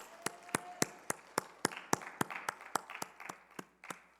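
Church congregation clapping in steady unison, about fifteen sharp even claps at a brisk rhythm, moderately distant and alone with no talk.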